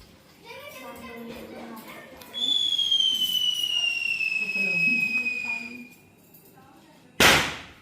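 Diwali fireworks at a home celebration: a long descending whistle from a rising rocket, then a sharp loud burst near the end, with children's voices and chatter throughout.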